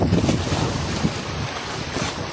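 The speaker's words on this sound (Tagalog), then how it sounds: "mahirap mag-fishing pag ganitong mahangin" Strong wind buffets the microphone outdoors by the sea in Oman, a steady roaring rush with waves churning underneath, no voices.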